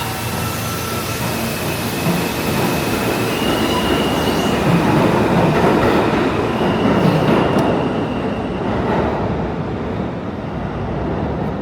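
A train rumbles through a run-down station in New York City, with a loud, continuous roar of wheels on rails and faint squeals rising over the steady clatter.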